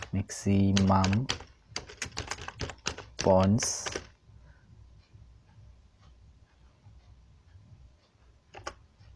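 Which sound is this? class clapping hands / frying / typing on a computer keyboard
typing on a computer keyboard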